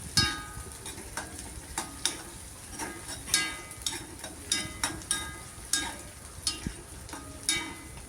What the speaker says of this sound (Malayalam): പച്ചമുളക് എന്നിട്ട് അതും കൂടി മിക്സ് ചെയ്ത് കൊടുക്കാം.